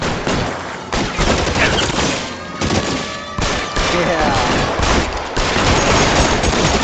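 Rapid bursts of gunfire in the video game L.A. Noire, loud clustered volleys of shots with brief gaps between them, close and dominant throughout.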